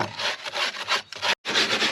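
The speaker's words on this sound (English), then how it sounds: "A bit sanding" Someone hand-sands wood on a boat hull with quick, rhythmic back-and-forth rasping strokes. The scratching is close and loud, with one short pause near the end.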